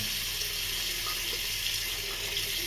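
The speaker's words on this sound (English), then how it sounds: "It's going to be a cold rinse now." Cold rinse water pouring steadily from a tap into a sink, a constant hiss and splash that stays even and fairly close throughout with no voices.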